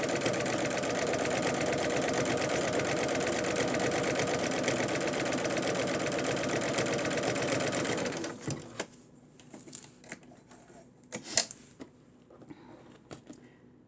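A home sewing machine stitching fabric under the presser foot, a rapid steady mechanical whirring hum that runs continuously for about eight seconds, then stops, leaving faint handling clicks and taps.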